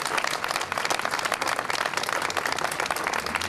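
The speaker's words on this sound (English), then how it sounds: "give a rousing, warm round of applause to Council Member Gray" Warm audience applause at the 2001 Apollo Theatre ribbon cutting, a dense steady wash of many hands clapping, fairly loud and continuous throughout with no talk over it.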